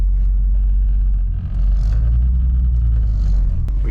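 A Nissan 300ZX 2+2 on the road, heard from inside as a steady, loud low engine and road rumble that holds for the whole stretch with no talking.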